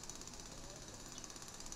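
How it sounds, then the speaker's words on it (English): Drilling in the video game Rock Raiders gives a steady rapid mechanical chatter with a bright whining layer above it, faint and continuous through the short stretch, with talk beneath it. "We're still drilling."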